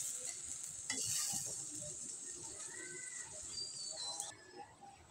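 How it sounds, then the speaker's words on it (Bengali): Water poured into sizzling fried spice paste for pointed gourd dolma, a loud hiss and bubbling that settles into a quieter simmer, with faint stirring. "আমি এবার ওর ভিতরে দিয়ে দেব জল।"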